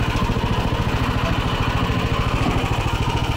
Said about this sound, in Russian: Первая передача, никто никуда не спешит, холостой ход.